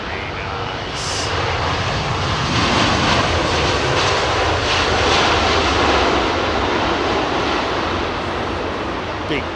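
A jet airliner lands at London Heathrow on a windy day with its thrust reversers deployed, giving a loud, close, sustained roar that swells and holds steady, with wind noise running underneath.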